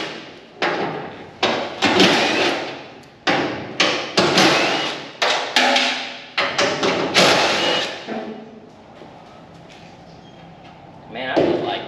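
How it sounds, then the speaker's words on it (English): Fenders being pried and knocked off an old wrecked Ford Fastback: a string of loud, close thumps and metallic clunks in uneven bursts, then a quieter stretch with a final rattle. "I'll go ahead and pop these fenders off"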